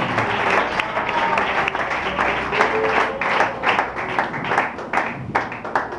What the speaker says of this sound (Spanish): Y un aplauso fuerte para Él